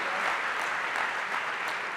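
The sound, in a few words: round of applause for inductees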